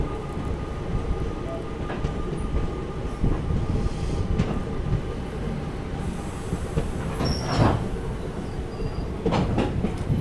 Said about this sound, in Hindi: टीकेडी का टोस्टर लोकोमोटिव, इसको टोस्टर बोलते हैं, WDP-3A लोकोमोटिव है, नजीबाबाद गजरोला पैसेंजर के साथ।